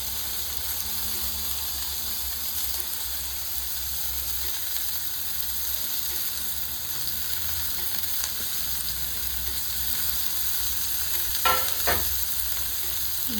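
Green chillies, pepper and coriander powder frying in a pan, with a steady soft sizzle throughout and a couple of brief scraping stirs near the end.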